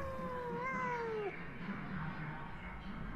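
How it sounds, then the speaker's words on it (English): A cat in the video game Pathologic 2 lets out a single drawn-out, falling meow near the start, then only a low ambient background follows. "There's definitely a cat here."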